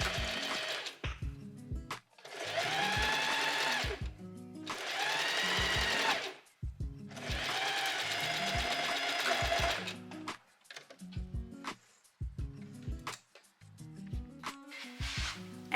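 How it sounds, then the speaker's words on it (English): A sewing machine stitches a make-up bag in several close, loud bursts of rapid mechanical whirring separated by pauses, followed by lighter handling clicks and taps. "and now I'm gonna start sewing again."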